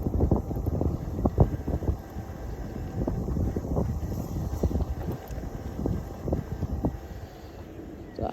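Wind buffets a microphone during a rail trail ride near a busy street, a constant low rumbling roar with gusty surges throughout and no voices.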